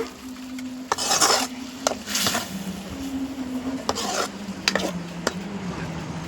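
A spoon scrapes and stirs through a bubbling pan of egg curry in repeated strokes, with a low simmering hiss underneath.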